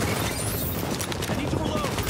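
Enemy gunfire in The Division video game, a dense continuous burst of rapid shots and booms filling the whole moment, loud and close.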